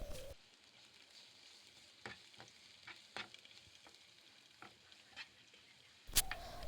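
Ginger garlic paste frying in a pan while a sardine roast is being made, giving a soft steady sizzle with a few sharp stirring clicks and a louder clatter near the end, with no talking.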